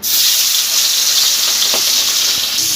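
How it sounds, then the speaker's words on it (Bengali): Hot oil hisses and crackles loudly as shrimp fry in a pan, a dense, bright sizzle that stays constant and close throughout with a faint stir midway. "তেলটা গরমও হয়ে গেছে তো চিংড়ি মাছগুলো প্রথমে ভেজে নেব"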